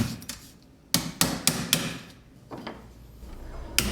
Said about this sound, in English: he'll be putting the mandrel in a vise and then pounding the shapes to be more exact